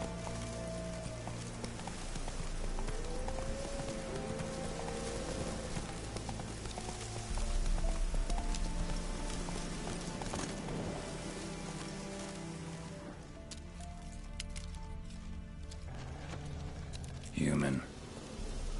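Geralt's horse Roach trots with steady clip-clopping hooves in The Witcher 3, the rhythmic footfalls running under rain and ambient sound, with a voice talking over part of it.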